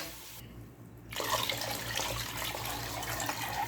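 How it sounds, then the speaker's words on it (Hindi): Water pours steadily into a pot of kadhi, a gram-flour yogurt curry, after a short quiet pause, splashing in as a continuous close gush with a low hum beneath. "और इसमें 1 लीटर पानी और ऐड करेंगे।"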